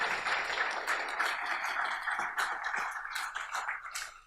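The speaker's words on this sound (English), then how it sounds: "give him a round of applause" Dense audience applause at a game developers' event in New York, steady broadband clapping that fills the whole stretch at an even level, with no voice on top.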